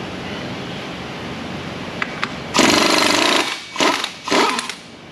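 Impact gun working the crankshaft pulley bolt on a Cummins N14 diesel engine during a teardown, loud broadband rattling bursts: one long run of about a second then two shorter bursts, close by in a workshop.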